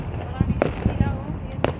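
Fireworks burst near the Burj Al Arab in Dubai, heard as several distant, scattered pops and crackles spaced out over a couple of seconds while people talk nearby.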